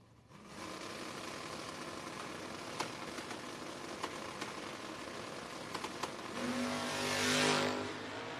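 A Corvette drag race car at a no-box 660 shootout idles and then roars off, engine rising into a loud acceleration that swells and sweeps past, with sharp mechanical pops along the way.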